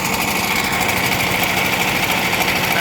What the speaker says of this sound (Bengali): দিয়ে ট্রলার আসতেছে অত্যন্ত লোড অবস্থায়